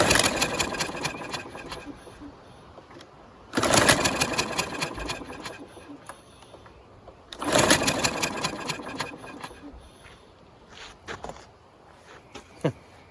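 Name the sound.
pulling the starter cord on a push lawn mower engine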